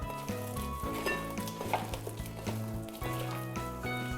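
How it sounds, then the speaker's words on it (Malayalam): Vada batter being kneaded by hand with chopped shallots, curry leaves, cumin powder and salt, giving a steady moist squishing and stirring texture over continuous kitchen background, with no talking. "ഇനി നമ്മൾക്ക് ഇത് കുഴച്ചെടുക്കാം."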